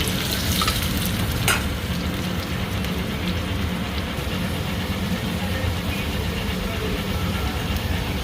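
Fried potatoes going back into a pan of hot oil with cumin and green chillies, a loud continuous sizzle with stirring scrapes and a sharp clatter near the start.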